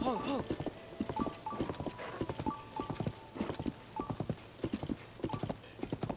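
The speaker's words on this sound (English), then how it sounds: "we got a gold horse that used to be Princess Zelda's." Horse hooves clip-clop in steady rhythm from a gold horse in the video game The Legend of Zelda: Tears of the Kingdom, close and clear, with a faint whinny at the start and a person talking over them.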